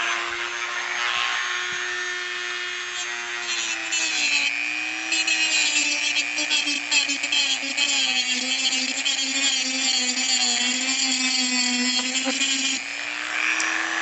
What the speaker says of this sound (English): Let's start out with a Dremel. Dremel tool, if you have one, you can just go in and I'll show you shaving it.